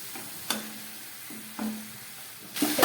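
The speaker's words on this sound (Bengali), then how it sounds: "এবার এই ম্যারিনেট করা মাংসটা আমি দিয়ে দিচ্ছি এর মধ্যে" Marinated meat goes into hot oil with whole garam masala and bay leaves, giving soft bursts of sizzling in three separate drops or stirs, rising toward the end; faint and close, without speech.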